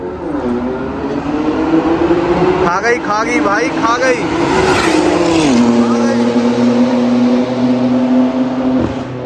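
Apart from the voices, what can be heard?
cars accelerating in a drag race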